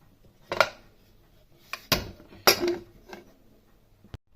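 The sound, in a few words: pressure cooker being placed on the stove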